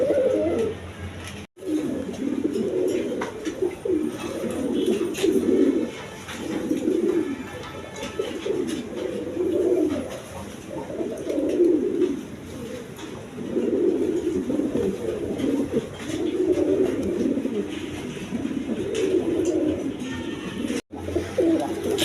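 Red Jacobin and shorting pigeons coo steadily and close up, their soft throaty calls rolling on in overlapping waves with no voices.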